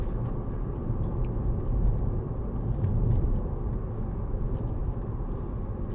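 Steady low road rumble and muted engine drone inside a 2011 Mercedes-Benz C200 CDI BlueEFFICIENCY SE diesel saloon with 7G-Tronic automatic, cruising with a quiet cabin; continuous and even, with slight swells, no talking.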